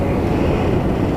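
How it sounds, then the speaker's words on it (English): A Boeing 737 MAX 8 airliner arrives at Toronto Pearson on approach from Los Angeles, a loud steady jet roar with heavy low rumble and wind buffeting, no talk. "Max 8 coming in from Los Angeles"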